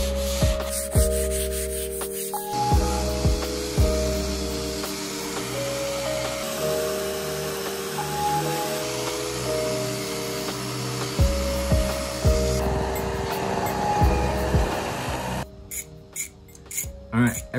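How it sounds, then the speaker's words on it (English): A palm sander works over a rusty metal art cart, its motor humming steadily under a loud, continuous abrasive scrubbing, with brief changes in pitch and pressure as the sander moves across the surface. "I used the palm sander and I used some sandpaper"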